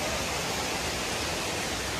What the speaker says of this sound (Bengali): দেখো এত সুন্দর ঝর্ণার আওয়াজ আসছে